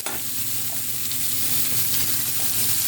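Spring onions and whitefish fry loudly in a pan, giving a dense, constant sizzle that stays level throughout. No one speaks.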